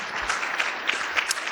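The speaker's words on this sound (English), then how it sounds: "this clapping during the talking is wonderful" A conference audience applauds during a climate policy summit plenary session: dense, continuous clapping from many hands filling the room, with no pause over the short stretch.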